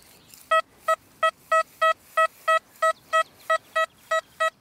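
XP Deus metal detector target tone with audio response set to 7: about a dozen loud, evenly spaced electronic beeps, each short and steady in pitch, repeating roughly three times per second with no talking.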